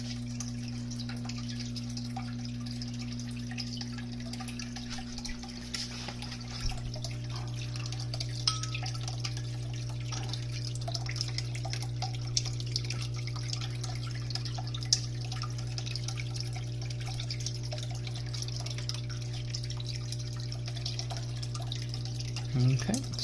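Water circulating through the cooling system of an OMTech 60 W laser cutter, heard as a steady, even pump hum with a faint trickle and occasional small drips running throughout.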